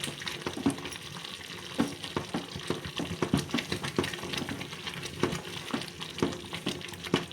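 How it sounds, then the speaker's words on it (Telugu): Ragi flour dough being stirred and mashed with a wooden masher in a pot, steady rhythmic thick squelching and knocking strokes, close and moderately loud, with no talking. "ఇలా కలుపుతూ ఉండాలి ఆ ఉండలు లేకుండా"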